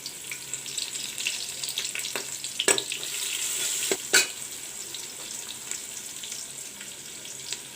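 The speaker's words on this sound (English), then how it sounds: "Now in the same oil, I will put the cut up onions." Cut onions and bay leaves fry in oil for tomato soya rice, an even sizzle with a couple of sharp knocks from a spoon or pan, heard up close without any speech.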